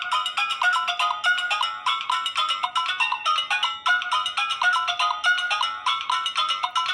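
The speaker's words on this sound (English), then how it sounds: "we nearly finished the video without listening to the stinking ringtones" A phone ringtone plays a bright, repeating electronic melody in quick patterned bursts, clear and close with no talking over it.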